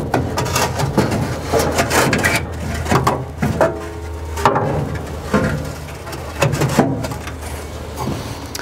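The large log of a Napoleon GL18 gas log set is lowered onto the locating pegs in the base, giving a run of close hard knocks, bumps and scrapes with short pauses between them.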